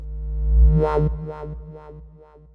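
Smooth Serum synth psytrance sound with the noise oscillator switched off, a deep swelling bass tone with repeated filtered pulses that gradually fade over a few seconds, alone with no voice.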